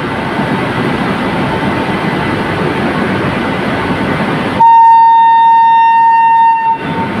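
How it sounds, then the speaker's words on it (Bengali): The Saraighat Express pulls out of a station with a loud, steady rumble of wheels and carriages, ending in a sustained tonal horn blast lasting a couple of seconds. "তো দেখো ডিপারচার দেখাবো এখন সরাইঘাট এক্সপ্রেসের, জাস্ট ডিপারচার"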